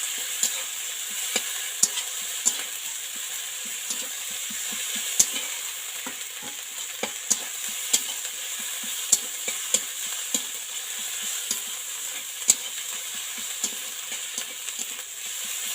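Ginger garlic paste fries in a pan, a continuous, fairly quiet sizzle with frequent light ticks and taps of a spoon stirring it around, no voices.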